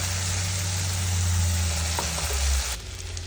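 Spice paste sizzles steadily in hot oil with cumin as it is stirred for a Bengali mutton curry, a loud continuous crackling fry with faint scraping, easing slightly near the end.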